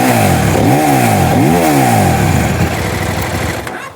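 A motorcycle engine runs close by, revving up twice in quick rising and falling sweeps, then settling into a steady, loud idle that fades slightly at the end.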